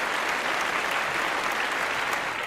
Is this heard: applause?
yes